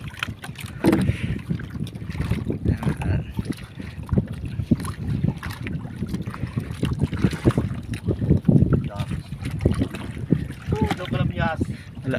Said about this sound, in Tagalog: Lakas ang hanging habagat